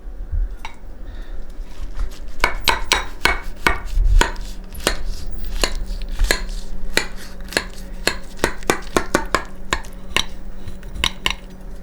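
Knife cutting through a keto au gratin casserole in a bowl, giving a dense run of sharp clicks and scrapes as the blade strikes the dish, close and fairly loud, with no talk.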